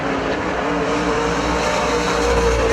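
PASCAR Super Stock race cars roar down the back straightaway at Perris Auto Speedway during the main event's final lap, a dense, loud, continuous engine drone with no clear break, and no talking.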